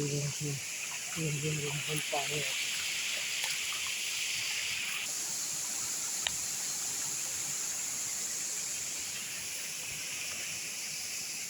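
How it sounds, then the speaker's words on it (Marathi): Steady broadband rush of a forest waterfall in monsoon rain, continuous and fairly close throughout, with a few brief voice-like sounds near the start. "आता मस्त धबधबा वाहतो हा"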